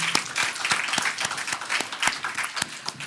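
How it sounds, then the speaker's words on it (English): An audience at a Caribbean trade conference panel gives a round of applause, with steady distinct hand claps close by over a fuller background of clapping throughout. "let's give them a rousing round of applause and thank them"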